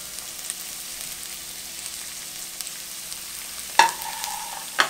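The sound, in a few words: onions frying in rice bran oil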